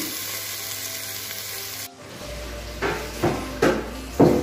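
Squid adobo sizzles and fries in a pan, a constant crackling hiss broken by a few louder scraping stirs near the end, close and without voices.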